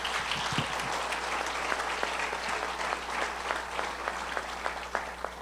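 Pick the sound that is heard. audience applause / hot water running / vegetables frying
audience applause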